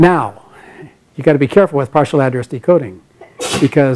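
A single sharp sneeze bursts out near the end of a university computer science lecture, following a stretch of the lecturer talking.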